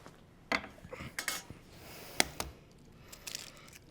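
Eggs cracked into a bowl of latke batter: several sharp, close clicks and taps against the bowl's rim, spaced irregularly over a few seconds with quiet gaps between.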